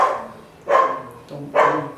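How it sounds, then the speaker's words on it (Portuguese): A pet dog barks indoors, set off by people passing in the street, giving two or three sharp, close barks at uneven intervals, with a man's brief speech among them. "Desculpa o meu cachorro fazendo barulho aí"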